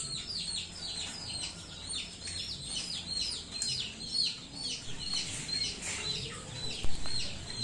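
Young ELBA chickens, recently vaccinated against Gumboro, cheep and chirp continuously in a high, busy chorus of overlapping peeps, fairly close, with soft clucks and low background rumble beneath.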